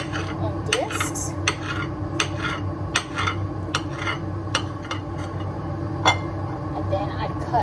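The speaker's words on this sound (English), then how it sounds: "So I'm going to chop my sausage up." A knife taps sharply on a cutting board while slicing sausage into small discs, with irregular close cuts and soft kitchen clatter between strokes.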